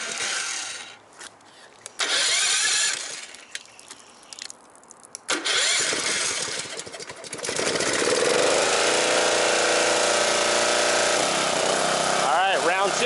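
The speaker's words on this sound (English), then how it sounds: "Let's get the machine fired up again and continue what we're doing here." A car wash pressure machine for snow foam starts up after some handling noises, then runs as a loud, steady motorized drone close to the microphone, with a voice speaking briefly.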